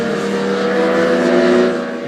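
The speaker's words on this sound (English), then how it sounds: "Lovely exhaust note." A 2025 Yamaha R9 supersport motorcycle holds a steady, loud, close exhaust note with a smooth droning tone that swells slightly before easing off, heard alone.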